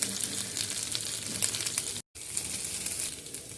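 Chicken roasting on a flat tawa, spiced tandoori-style, crackles and sizzles in a steady, close hiss with a brief cut partway through.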